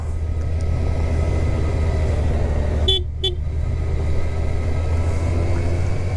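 Two short horn beeps from a Kawasaki Versys 1000 SE motorcycle sound in quick succession over its steady engine drone on a mountain road in Kabayan, Benguet, the bike running close by with no voices.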